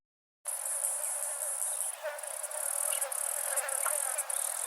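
A carnivorous katydid imitates the clicking of female cicadas in a rapid, continuous, dry, high-pitched buzz of clicks, fairly faint and steady, starting abruptly after a brief silence.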